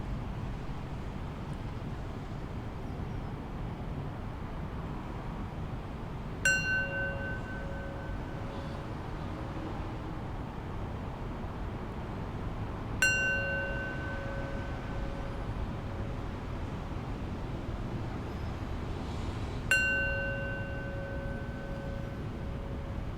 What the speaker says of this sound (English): I'll close this practice with 3 rings of the bell